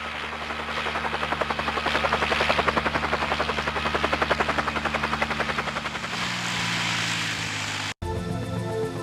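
Helicopter in the PS1 game Resident Evil Director's Cut arriving: a loud, steady rotor thump with a rhythmic chop and engine whine, holding for several seconds before shifting tone, briefly cutting out, then resuming.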